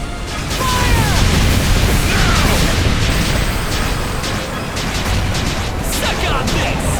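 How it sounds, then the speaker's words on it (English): Loud, continuous booming blasts of cannon fire in the game Ys X: Nordics, dense rumbling explosions layered with crashes and whooshing effects, no pause throughout. "Fire the cannons!"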